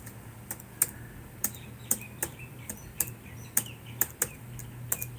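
Keys tapped one at a time on a computer keyboard while a new password is entered on a Raspberry Pi, about a dozen crisp, evenly spaced clicks over a quiet hum, with faint bird chirps in the background.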